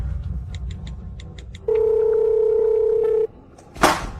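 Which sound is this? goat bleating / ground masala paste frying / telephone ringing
telephone ringing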